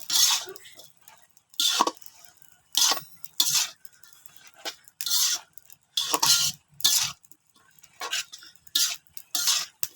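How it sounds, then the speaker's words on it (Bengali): A spoon stirs food boiling in a pot, giving about a dozen separate bursts of scraping and clinking against the pot at an uneven pace. The stirring sounds close and moderately loud, with no talk. "দেখো এটাকে আমি নাইড়া চাড়া দিই।"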